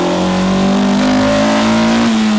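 A Honda Civic Type R EK9 with the 1.6-litre B16 VTEC dual-overhead-cam engine and a Mugen intake revs hard, its loud, close engine note holding a bright rising tone that climbs in pitch across the clip.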